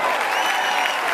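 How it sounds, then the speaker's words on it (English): Audience applause greeting new 5LINX members on stage, a dense, steady wash of many hands clapping throughout, loud and continuous with faint crowd murmur. "Give them a real Five Links round of applause to all the new family members getting started."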